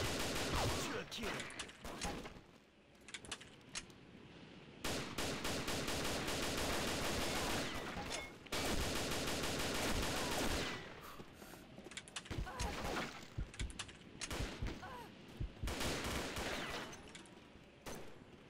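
Squirt gun firing in Combat Arms, rapid bursts of shots in dense clusters separated by short gaps, loud and close.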